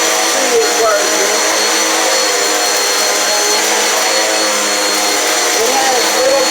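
A Dirt Devil Power Max XL vacuum cleaner runs steadily at close range, a loud continuous whine with a broad airy roar that holds level throughout, with faint shifts as it is pushed back and forth.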